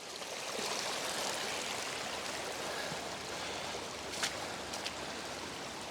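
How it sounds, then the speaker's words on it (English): Floodwater on a farm pouring over a berm and running down an old logging road, a steady, moderately near rushing wash that continues without break. "flowing over the berm and it's coming down the road"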